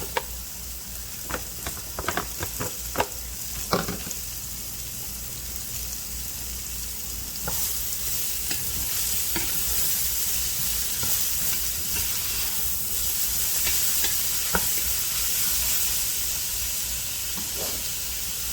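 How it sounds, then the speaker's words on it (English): Peppers and onions dropped into a hot pan beside mushrooms: a few clattering knocks at first, then a steady sizzling hiss that swells and holds, close and alone. "Let's go ahead and dump our peppers and onions in."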